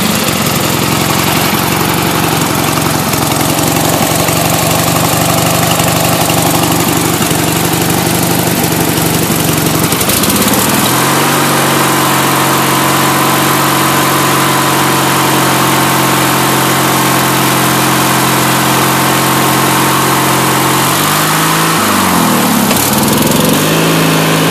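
Country Clipper riding lawn mower engine idling loud and close, a steady drone that dips in pitch midway and then settles into an even, lower hum.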